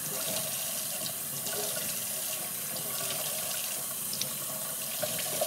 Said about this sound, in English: And I'm just using lukewarm water to rinse.